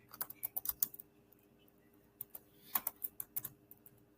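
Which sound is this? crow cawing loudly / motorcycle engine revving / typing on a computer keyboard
typing on a computer keyboard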